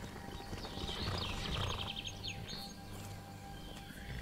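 Horse hooves clip-clopping in the game Skyrim, a quiet rhythmic trot under chirping birdsong in an outdoor setting.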